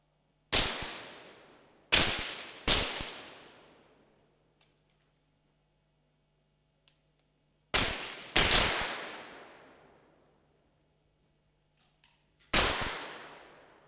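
Pistol shots at a men's 50m pistol shooting competition, several sharp cracks fired singly and in close pairs with long decaying echoes between them, fairly loud against a quiet range.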